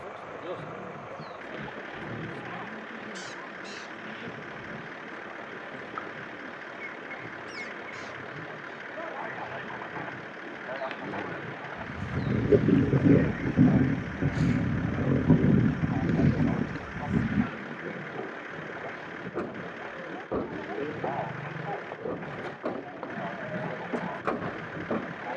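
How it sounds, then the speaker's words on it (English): Safari vehicles sit idling near lions feeding on a stolen impala at dusk in the African bush, a steady low engine rumble that swells louder for a few seconds midway, with faint background activity. "they wouldn't switch their engines off too quickly, so there was a bit of noise"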